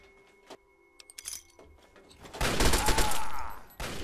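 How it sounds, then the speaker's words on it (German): Gunfire in the video game Fallout 3: scattered clicks and small metallic hits, then a dense, loud burst of rapid shots, a short pause, and another burst. "Es wird immer noch geschossen hier."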